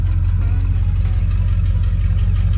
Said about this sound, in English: Motor runs good, good oil pressure.